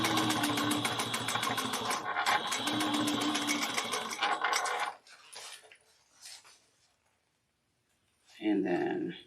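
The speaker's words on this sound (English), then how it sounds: "we're going to sew this at 3/8 of an inch." A sewing machine stitches a canvas bag with foam backing in a fast, steady mechanical whir for about five seconds, then short bursts and silence before it runs again at the end, close and loud with talking over it.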